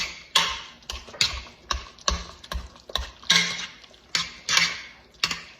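A hand masher repeatedly strikes and squishes warm potatoes in a pot, giving a steady series of sharp clanks and soft squelches close by, about two per second, with no talking.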